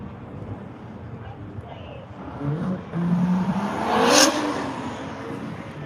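A street car in a roll race launches and accelerates hard, its engine rising in pitch and loudness to a peak before easing, under an announcer talking over a track crowd.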